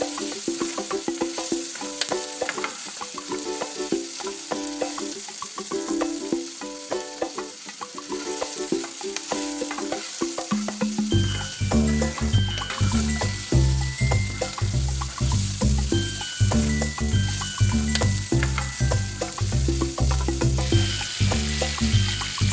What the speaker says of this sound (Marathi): तेल तापले की यात अर्धा चमचा जिरं, 2 बारीक चिरलेल्या हिरव्या मिरची आणि 1 बारीक चिरलेला कांदा टाकून छान परतून घ्या.